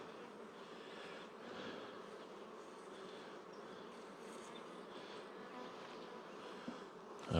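Honeybees buzz steadily on a polystyrene hive, a dense hovering drone of many wings close by, with a brief clunk at the very end.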